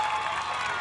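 Dense applause with scattered cheers from a live crowd at an American Ninja Warrior finals event in Daytona Beach, a brief steady burst of clapping.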